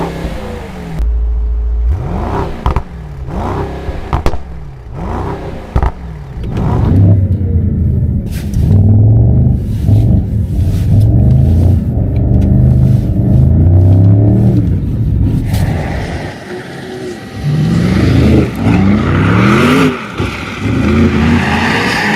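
A Mercedes-AMG roadster engine rated at 805 horsepower, loud and close, revving hard and climbing through repeated acceleration pulls, with a deep rumbling roar that swells and shifts near the end.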